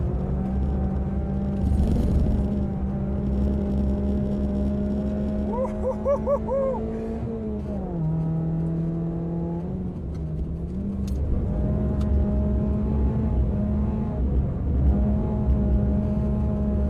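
Race car drifting on its rear tyres, a steady loud engine drone with shifting pitch and brief tyre-squeal tones, sustained throughout at close range.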